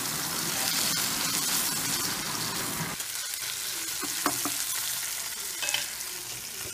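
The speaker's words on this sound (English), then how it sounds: "the fish fry also fried and then after frying one side, just turning the other side" Steady crackling sizzle of fish frying in a hot pan, with a few louder pops and spatters near the end and no voices.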